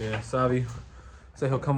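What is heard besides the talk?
No distinct noise like a dog, phone or traffic.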